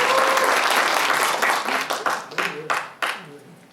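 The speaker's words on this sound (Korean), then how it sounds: "박수가 중간에 한 번씩 나와줘요" Applause from an audience at a grassroots political debate forum, a dense burst of clapping that thins into scattered separate claps as it fades.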